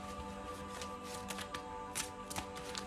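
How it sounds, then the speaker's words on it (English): A deck of playing cards being shuffled by hand, a soft papery riffle with quick flutters and taps, faint and close, with no talk over it. "Let me just give this one more good shuffle."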